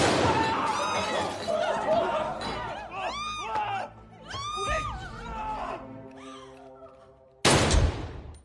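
A single loud, sharp pistol gunshot cracks out near the end of a film scene, following shouting, laughter and screaming voices.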